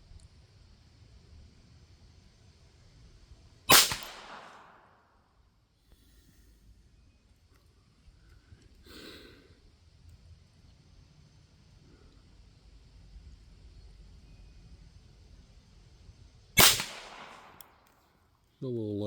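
Two sharp, isolated .22 LR shots from a Beretta Model 102 pistol fired off a rest at a target, spaced well apart with quiet outdoor background between them.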